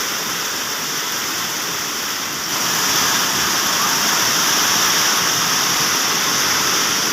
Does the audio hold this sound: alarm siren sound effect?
no